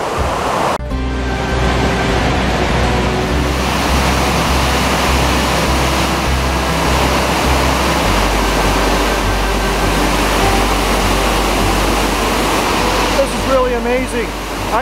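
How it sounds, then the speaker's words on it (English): A waterfall pours in a continuous, loud broadband rush that begins abruptly and fills the whole clip without pause. "I have never been here to see this waterfall"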